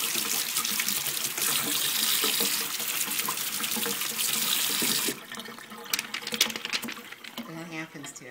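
Tap water runs over a plastic Canadian $50 bill, a loud steady rush that stops after about five seconds and leaves quieter handling and dripping sounds.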